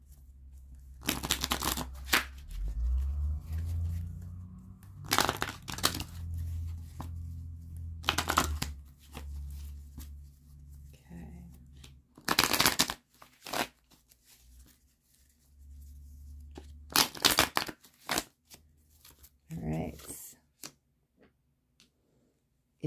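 Tarot cards being shuffled by hand in repeated bursts of crisp riffling and slapping, close and loud, separated by pauses, with no talking.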